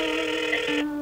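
Ringback tone of an outgoing phone call, a single steady electronic ring burst that cuts off just before a second, close and clear with no voices.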